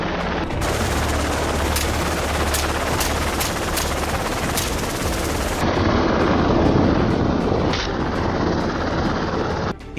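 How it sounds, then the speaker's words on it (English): Helicopter flying low and slow over beach and forest during a wild boar hunt in Australia, a loud continuous rotor roar with sharp cracks of gunfire scattered through the first half. "Look how slow the helicopter is moving."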